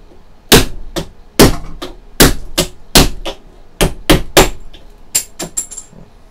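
An electronic device casing is broken open with sharp, loud cracking blows, about a dozen hard impacts in irregular bursts with short pauses between.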